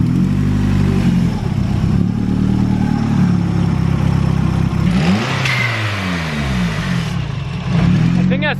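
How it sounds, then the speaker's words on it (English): A car engine free-revs loudly in steady rising and falling sweeps, then the revs drop sharply as it nearly stalls, with a brief hiss from the blow-off valve, all close by and continuous with some talk mixed in. "The car just keeps wanting to stall after it free revs."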